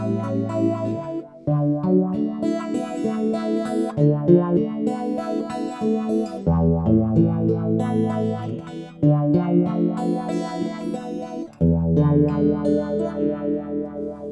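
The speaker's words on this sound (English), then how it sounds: "which is the auto wah" An electric guitar played through an auto wah pedal, phrases of chords and notes with a sweeping, vowel-like filter, loud and close, recurring in short looped sections with no talking.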